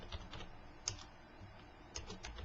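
Quiet typing on a computer keyboard, a loose series of soft key clicks with a couple of sharper taps, entering a command into a Halo map-editing console.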